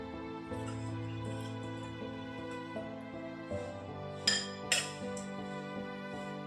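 A spoon scraping and clinking against a bowl and pan while vegetarian doi patol, pointed gourd in yogurt curry, is served, with two sharp clinks near the end over soft steady music.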